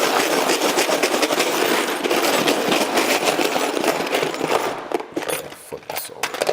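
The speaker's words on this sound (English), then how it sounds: "Rusty razor blades, some bolts, screws. Let's pop it in there and give it a shake." An iPhone X shaken in a container with rusty razor blades, bolts and screws: a dense, continuous metallic rattling and scraping churns steadily at close range, then breaks into choppier bursts near the end.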